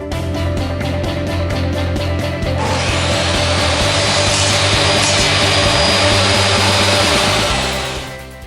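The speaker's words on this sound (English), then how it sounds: "I'm just taking 2 passes with my table saw sled, and that'll get the same results" A table saw with a crosscut sled cutting half-lap joints in wood: the blade's high whine rises as it bites into the board, holds a loud, dense roar through the cut, then winds down, close and alone.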